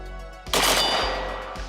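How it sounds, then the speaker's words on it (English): A 5.56 AK rifle fires a quick double tap at a steel target outdoors: a loud, sharp pair of shots close together, followed by a ringing tail and a fainter third report near the end. "Let's see if we can double tap on steel"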